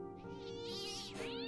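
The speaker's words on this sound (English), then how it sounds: "Oh, kitty." A cat in the Fran Bow video game meows in a steady, drawn-out cry with rising and falling pitch, close and clear over a sustained musical drone, and no voices.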